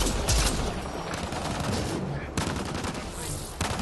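Rapid gunfire bursts in the Mass Effect Andromeda video game, loud crackling volleys with brief gaps, close and dense, repeating throughout.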